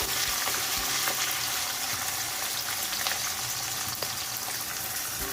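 Capsicum frying in a pan for a restaurant-style chilli chicken, giving a steady dense sizzle throughout with occasional scraping stir strokes, close and fairly loud, with no talk.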